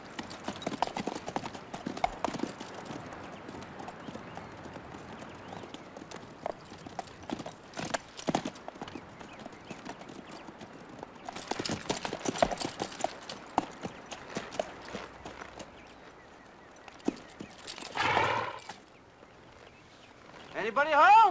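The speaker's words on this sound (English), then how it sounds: "these horses need water" Horses' hooves clip-clop steadily on the ground in a 1961 Western, with riders talking intermittently over the hoofbeats, which stay moderately faint throughout and are joined by a whinny near the end.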